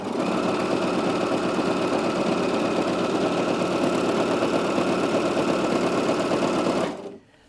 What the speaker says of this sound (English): when you raise or lower your presser foot, you will hear the machine make a noise. It's just calibrating and setting itself up ready for the stitch